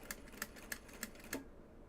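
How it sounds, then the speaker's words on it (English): Five sharp mechanical clicks at a steady rhythm from a faulty sewing machine, close and fairly quiet, with a faint hum underneath and no talking. "Hearing your sewing machine clicking is probably never a good sign."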